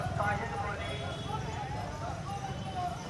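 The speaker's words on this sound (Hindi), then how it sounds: "हमारा घोड़ा थोड़ा सा चंचल है भाई" Horse hooves clip-clop along a road during a Kanwar Yatra pilgrimage, with a restless horse. Steady, moderate steps are heard with voices and chatter around them.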